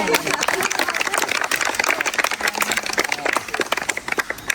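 Participants on a national-park trip clap for a teacher, with a dense, brisk patter of hands continuing throughout while someone talks over it.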